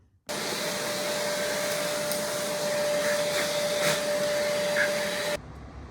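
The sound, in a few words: vacuum cleaner cleaning up sanding grit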